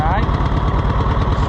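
Engine of a Cushman Truckster running in first gear: a close, loud, steady putt-putt rumble with an even rhythm across the short stretch, with no talking over it.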